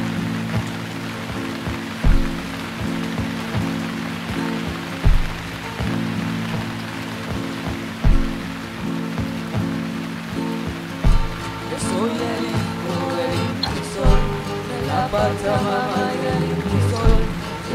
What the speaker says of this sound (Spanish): la naturaleza en su sabiduría para aplacar el calor nos ha regalado la lluvia